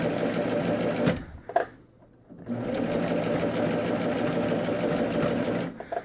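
A sewing machine fitted with a ruffler foot runs steadily through fabric with a fast, even mechanical whir. It pauses briefly about a second in, then starts again and keeps running close and loud to the end.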